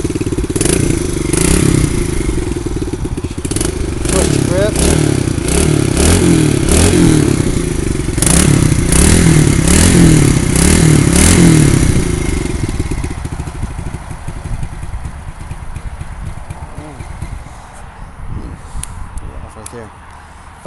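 A 2006 Kawasaki KLX110 dirt bike, kickstarted and then running loudly close up with a rapid rhythmic engine chatter for about twelve seconds, then settling to a quieter idle.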